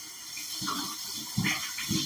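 Water dumped out of a two-compartment sink while washing fresh glass, heard as several short splashing pours in bursts, moderately close, with no talking.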